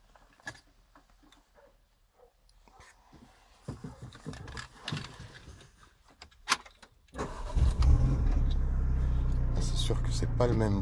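A Renault Megane Trophy R engine turns over and settles into a loud, steady idle up close, following a stretch of quiet shuffling and handling sounds.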